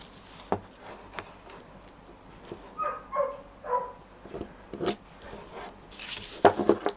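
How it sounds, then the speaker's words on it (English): A neighbour's dog barks and yelps several times at a distance, in short uneven bursts over quiet background noise, with a few soft taps nearby. "Next door's dog's not happy about something."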